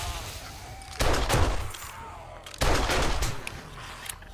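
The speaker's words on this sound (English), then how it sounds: "They're gonna hit the landmines." Two loud, crackling landmine blasts go off about a second apart in the zombie survival game 7 Days to Die, each one a sharp burst with a short rumbling tail.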